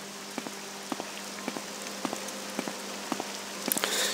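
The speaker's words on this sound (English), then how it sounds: "And of course it is raining, as it always seems to rain here in Vardenfell." Steady rain falls in the video game Morrowind, a constant hiss with scattered raindrop ticks and pats landing at irregular intervals, ending in a slight swell of noise.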